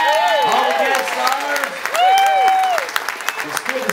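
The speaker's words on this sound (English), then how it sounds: "He deserves a big round of applause" A gospel concert audience applauds in a steady patter, with a voice speaking or singing over the clapping throughout.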